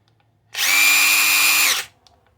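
A new 2023 Seesii 1/2-inch battery-powered right angle impact wrench runs in one steady, high whining burst of about a second, starting and stopping abruptly in a quiet room.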